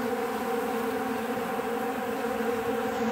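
Steady, dense buzzing of many honey bees, a continuous hum with no pauses, fairly close and even in loudness throughout.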